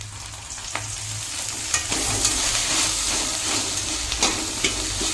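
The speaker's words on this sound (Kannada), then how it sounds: "ಈ ಥರ ಎಣ್ಣೆ ಹಾಕಿ ಸ್ವಲ್ಪ ಹಿಂಗೆ ಕೈ ಆಡಿಸ್ತಾನೆ ಇರ್ರಿ. ಎಲ್ಲ ಕಡೆ ಚೆನ್ನಾಗಿ ಫ್ರೈ ಆಗ್ತವೆ" Okra frying in a spoonful of oil while being stirred, a steady close sizzle with occasional scraping clicks of the spoon, no voices.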